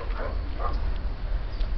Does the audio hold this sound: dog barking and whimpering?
yes